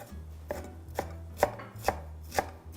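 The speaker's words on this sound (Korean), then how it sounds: "먼저 송송 썰겠습니다" A knife chops blanched mung bean sprouts on a cutting board for Korean dumpling filling, five steady, evenly spaced thuds close up, with a low hum underneath and no talk.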